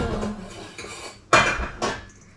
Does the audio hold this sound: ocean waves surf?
no